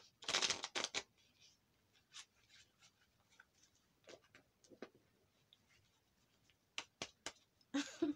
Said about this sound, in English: We're going to give another good shuffle here.